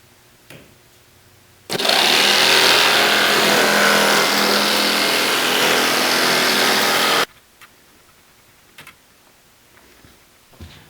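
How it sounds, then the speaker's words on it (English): A saber saw cuts away excess kayak skin material in one loud, steady burst of about five seconds, with quiet handling noise and a few faint knocks before and after it. "Because of the irregularity after cutting with your saber saw"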